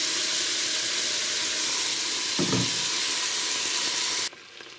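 Curry chicken feet hit a hot pot and sizzle loudly in a steady, continuous hiss that cuts off abruptly near the end, with a brief low stirring thump partway through.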